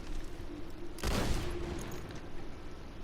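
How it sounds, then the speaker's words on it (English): A weapon in Borderlands 2 sets off a burst of rapid small explosions, a loud crackling blast about a second in, fading into dense crackle over steady game background with no talk. "you see all those tiny little explosions?"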